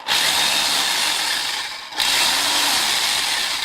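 A secondhand jigsaw from an estate sale buzzes loudly and steadily close by, with a brief dip in the middle before it picks back up and keeps running.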